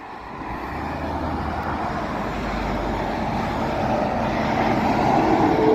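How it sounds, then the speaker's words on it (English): A big truck passes on a rainy road, its engine and tire rumble building from a moderate drone to a louder close roar with a steady wash of road noise. "Big trucks, not okay."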